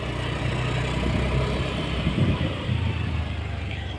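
Engines idle in a traffic jam on a narrow road near Chopta on a busy Sunday, a steady low rumble of several vehicles close by, with no one talking.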